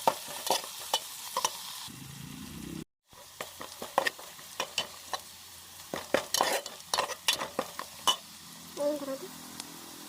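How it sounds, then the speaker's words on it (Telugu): Fenugreek and mustard seeds fry in hot oil for a fish curry, giving a steady close sizzle broken by sharp clinks and scrapes of a spoon stirring against the pan. "బాగా కాగిన తర్వాత దీంట్లోనే మెంతులు, ఆవాలు వేసేసుకోవాలి."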